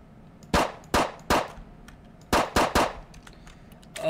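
Colt 1902 pistol firing in a video game, six sharp gunshots in two groups of three, each crack loud and close with a short decaying tail, over a low steady background.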